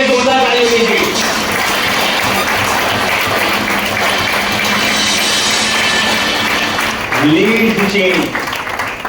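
A seminar audience at a leadership event breaks into loud, sustained applause that fills the whole stretch, with a voice speaking over the clapping.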